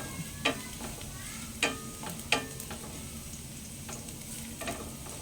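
Garlic sizzling in a pan for simple spaghetti, a steady close hiss broken by a few sharp scrapes of a utensil stirring, with no voices.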